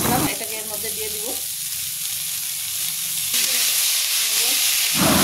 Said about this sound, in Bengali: গোবিন্দভোগ চালটা তেলের মধ্যে দিয়ে ভাজা করে নেব